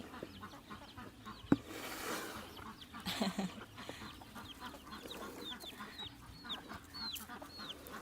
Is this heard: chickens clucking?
yes